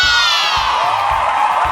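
An audience cheers and whoops loudly, a dense burst of voices with children shouting among them, steady throughout.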